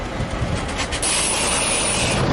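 A freight train rumbles along the North Island Main Trunk line near the Feilding railway yards, a steady near roar of wagons with a hiss and a faint high wheel squeal joining partway through.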